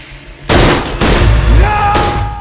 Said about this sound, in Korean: 희꺼락에 총을 쏴버리는 크리스 그리고 크리스의 총성을 신호로 들이닥치는 프랭크의 패거리들